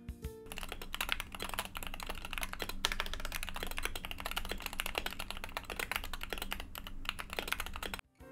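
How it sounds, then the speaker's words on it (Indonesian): A Wooting60 gaming keyboard is typed on continuously, fast even keystrokes forming a dense, close clatter for several seconds with no voices, stopping abruptly near the end. "First impression, suara keyboard ini hampir sempurna."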